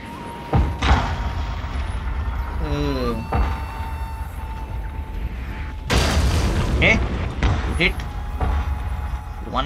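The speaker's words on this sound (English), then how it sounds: "Last gunshot." Gunfire booms out during a siege battle in Shogun 2: Total War, Fall of the Samurai, with a few sharp cannon-like blasts amid battle ambience and someone talking over it.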